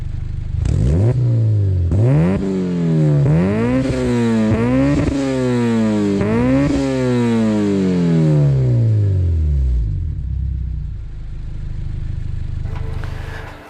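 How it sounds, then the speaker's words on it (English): A Honda Civic Si fitted with a custom Vibrant exhaust revs loudly in a series of rising and falling pulls, each climbing sharply then dropping back, before settling into a low idle rumble; no talking. "it has absolutely changed the tonality and the overall volume of the exhaust"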